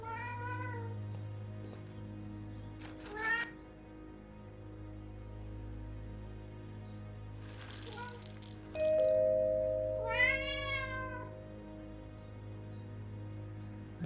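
A cat in a video game meows several times, clear drawn-out cries spaced apart over a low steady hum, with brief rattling noises and a sustained tone in between.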